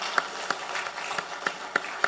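Inside a church, a congregation gives slow, sparse claps, several distinct sharp hits spaced apart over a soft background, fairly close and moderately loud.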